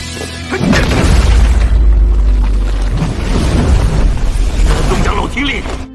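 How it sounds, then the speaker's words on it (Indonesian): Large explosions from an animated fight in the sky, heavy rumbling booms rolling continuously and loudly for several seconds, thick low-end roar with crackling debris layered over a music and effects mix. "Pertarungan terus berlanjut menimbulkan ledakan-ledakan besar di atas langit."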